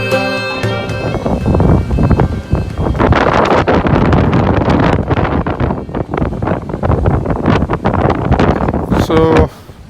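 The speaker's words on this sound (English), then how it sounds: "It's quite windy." Wind rushing across a ferry deck, loud and continuous with buffeting gusts against the microphone and faint harmonic tones at the start and end.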